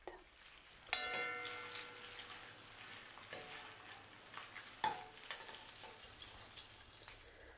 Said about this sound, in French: Avec une partie de la même huile, faisons cuire les crevettes.